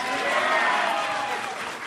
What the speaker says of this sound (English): If you think Uncharted 3 will be Game of the Year,